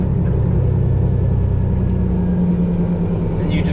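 A 10-speed manual truck engine idles along in first gear, a close, heavy, low rumble with a steady mechanical throb that stays even throughout the short stretch.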